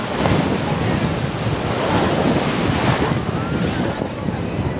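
Sea waves at Dumas beach in Surat wash in as a continuous surging roar mixed with gusty wind buffeting the microphone, close and loud, with no clear speech.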